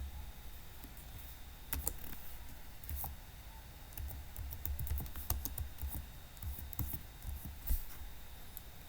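Computer keyboard keys clatter steadily, a quick run of close, soft clicks and taps over faint room hiss while text is typed in PowerPoint, with no talking.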